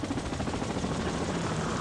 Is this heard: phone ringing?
no